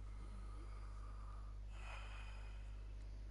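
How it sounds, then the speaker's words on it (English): A character in Red Dead Redemption 2 takes one slow, deep breath during a doctor's examination, a soft, airy inhale and exhale heard faintly over a low steady hum. "Breathe."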